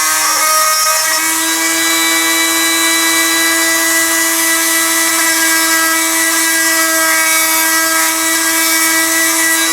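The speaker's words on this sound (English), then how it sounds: "I've just taken my Dremel tool and relieved a little material right at the back edge of where the stock runs into the trigger guard" A Dremel rotary tool grinds material from the back edge of a gun stock where it meets the trigger guard, a steady high-pitched whine held loud and close for the whole stretch, with no talking.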